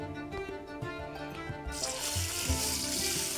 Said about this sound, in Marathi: आता यामध्ये पाणी टाकून घेणार आहे।